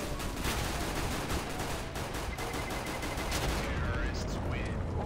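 Dense, loud gunfire from the shooter CS:GO rattles almost nonstop in rapid automatic bursts, with voices talking over the shots.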